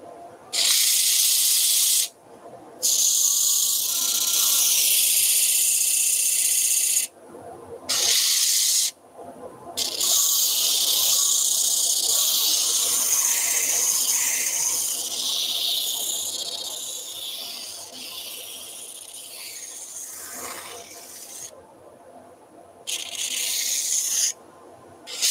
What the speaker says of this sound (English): The speed I'm sanding at, you know, that's going to differ for job and for grit size, but this is running at 900 at the moment